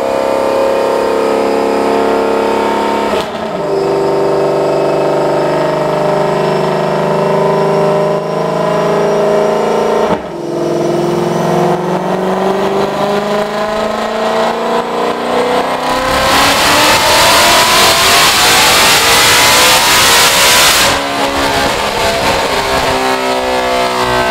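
Supercharged 2020 Ford Mustang GT500 with a ported blower on a dyno pull, loud continuous engine roar with brief dips at gear changes, then a sweeping high-rpm scream with blower whine near the end.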